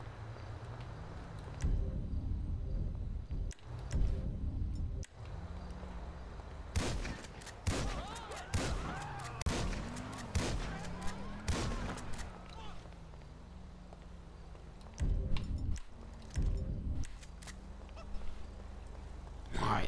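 Gunfire in the video game GTA V: a few sharp shots sound among game noises and engine hum, with a voice talking over it.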